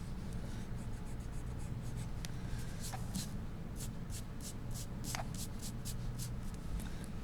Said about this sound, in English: I will erase any smudges that are on my paper.